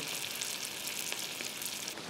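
Mustard seeds, green chili and garlic sizzle in hot oil as a tempering is made for a moong dal curry, a steady bright crackling hiss with small popping bursts throughout, close up and fairly quiet.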